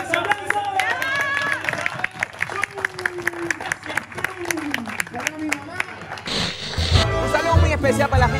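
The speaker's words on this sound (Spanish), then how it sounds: "Aplauso, aplauso." Applause from a television studio audience, rhythmic group clapping heard under talk and music, growing into a fuller burst of crowd clapping and noise near the end.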